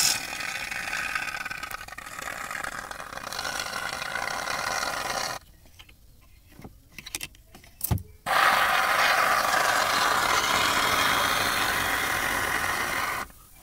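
Aerosol AC cleaner sprayed into the opened vent louvres of a car, a steady close hiss that runs for several seconds, breaks off into short bursts, then resumes as a long continuous spray.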